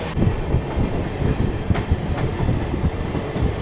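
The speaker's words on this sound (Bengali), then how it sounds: "একদম রাইট টাইমে ট্রেন চলছে ভালো স্পিডে চলছে" An express train rolls steadily along the tracks, a continuous rumbling roar broken by rhythmic clickety-clack thumps from the wheels passing rail joints.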